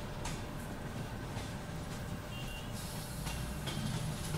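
A Borivali–Churchgate slow local train rolls past near Goregaon station in Mumbai. A steady, broadband rumble of wheels and carriages carries faint rattles and clanks, with no talking.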